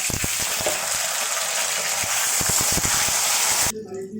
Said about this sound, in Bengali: এবার আলু আর কচুটা আমি ভেজে নেব।